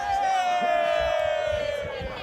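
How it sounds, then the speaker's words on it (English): Distant fans cheer and whoop from the summit queue on Snowdon, a thin gliding whistle-like tone sitting over a faint crowd murmur. "people there cheering my channel"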